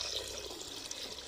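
Water pours from a vessel onto moong dal in a pot for sweet Pongal, giving a faint, continuous splashing trickle.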